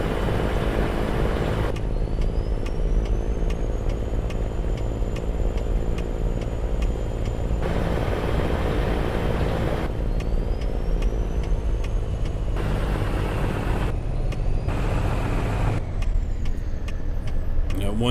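A Kenworth W900 truck drives in American Truck Simulator, its engine holding a constant heavy, droning rumble with faint tonal whines and ticking over the full run.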